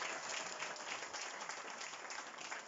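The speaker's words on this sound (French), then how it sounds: "Ok, je t'applaudis" Applause from a crowd at a political meeting in Mauritius, a continuous even patter of many hands clapping, fairly distant and steady for the whole moment.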